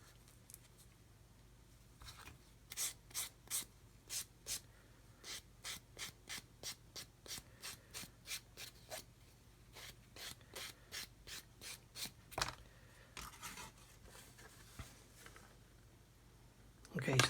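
Short rhythmic sanding strokes rub a small wooden wedge plug, dozens of quick scratchy passes in a steady series, close and fairly quiet, with pauses between bursts and a louder scrape at the end.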